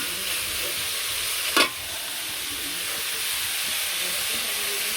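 Potato bhaji fries in a pan with a constant, fairly loud sizzling hiss, broken once by a brief louder burst partway through.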